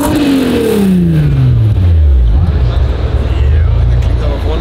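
A car engine revs hard at the Essen Motor Show, its pitch sweeping steadily downward and settling into a deep, loud idle rumble amid constant hall noise; voices are also present.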